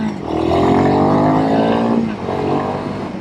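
Royal Enfield Himalayan 452 motorcycle, a 40 horsepower single, revving up through a gear with a rising engine note, easing off, then pulling again, loud and close.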